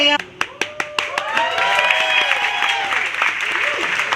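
A concert audience at the Star Wars Hotel Starcruiser claps in a burst of applause that starts with separate sharp claps and swells, with whooping and cheering voices mixed in.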